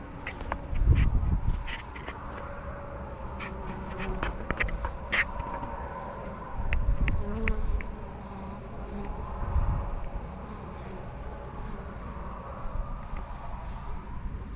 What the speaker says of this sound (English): Don't want to aggravate the bees while there's people set up camp